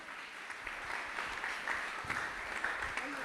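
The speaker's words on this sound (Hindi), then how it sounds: "जोरदार जोरदार तालियां आपकी, दोनों हाथ ऊपर उठा करके" Soft, fairly distant applause from an audience at a spiritual discourse gathering, a steady wash of clapping with no talk.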